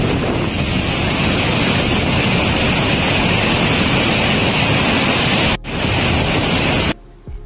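A swollen river rushes past during Cyclone Montha, a loud, broad roar of flowing water mixed with heavy wind buffeting the microphone, steady throughout before briefly cutting out near the end, with no talking.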